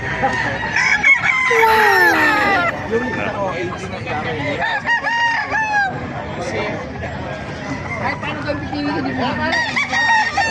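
White Kelso gamecock roosters crow over and over from cages at a busy poultry market, several overlapping calls near and far, mixed with clucking and someone talking.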